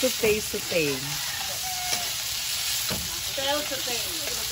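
Garlic and tomatoes sautéing in a pan give a steady, close sizzle and frying hiss. A rooster crows and fowl call in the background, and a voice speaks briefly.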